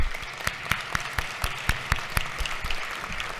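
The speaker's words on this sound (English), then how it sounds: "give a round of applause to the heroes of Appalachia High School" Lawmakers and guests in a legislative chamber applaud Appalachia High School staff, a modest group of hands giving scattered, crisp claps at a steady level for a few seconds.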